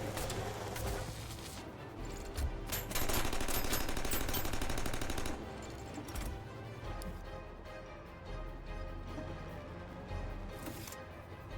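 Rapid automatic gunfire in a shooter video game, fairly quiet and sustained, with dense bursts of shots running through the whole stretch over a busy game soundscape.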